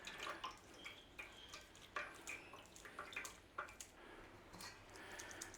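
Liquid from two tins of oranges drips and trickles as the fruit is drained, quiet irregular splashes and plinks close by with no speech.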